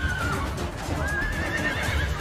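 A horse in the video game Assassin's Creed Brotherhood lets out a drawn-out whinny, rising and wavering over low rumbling game ambience for about two seconds, fairly close and unaccompanied by speech.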